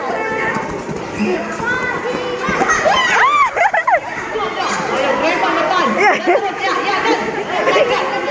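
Children shout and play at a lively game event for an SKM anniversary celebration in Banda Aceh, their excited cries rising over steady crowd chatter and cheering, with a louder burst of shouting near the middle.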